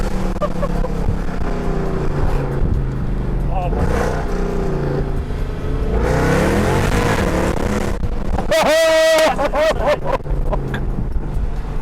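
A Mercedes engine revving hard in Sport Plus mode, a loud rising roar that builds and sweeps upward, with someone talking over much of it.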